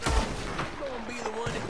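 Gunfire in the Red Dead Online video game, a loud crack at the start followed by further distant shot transients, with game ambience and music tones underneath.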